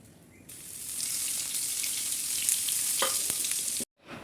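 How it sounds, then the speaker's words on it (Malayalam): Fish sizzles loudly in rice bran oil with crushed shallots, a dense, close, continuous frying hiss with a few crackles, heard alone before it cuts off abruptly near the end. "ഇത് ചിക്കൻ പൊരിച്ച എണ്ണയിലാണ് കേട്ടോ ഞാൻ മീൻ പൊരിക്കണത്"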